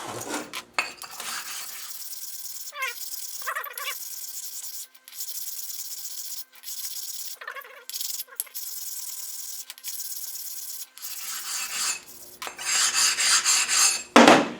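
Oil stone rubbed across bolt heads on a rear axle, a series of short scraping and rasping strokes with brief metallic scrapes between them and pauses, growing louder and denser toward the end.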